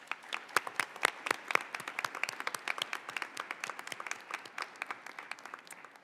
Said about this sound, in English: let's take a minute to honor them with a round of applause